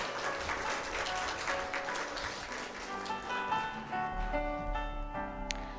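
Audience applause at a hospital pharmacists' conference fills the hall with steady clapping, then thins out as sustained music tones take over toward the end.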